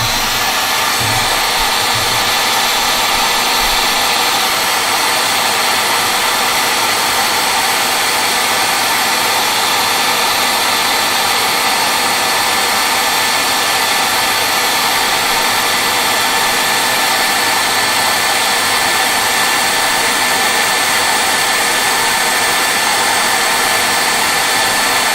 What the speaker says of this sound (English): let me give this a little dry with my hairdryer.